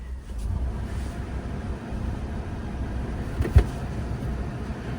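A turbo Honda Vamos kei van engine idles with a low, steady rumble, fairly quiet and even, with one brief knock partway through and no talk.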